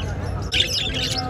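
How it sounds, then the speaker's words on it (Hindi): Australian parrots at a busy outdoor bird market, a quick burst of high chirps and tweets rising over a dense crowd murmur and background noise, brief and close. "ऑस्ट्रेलियन तोते"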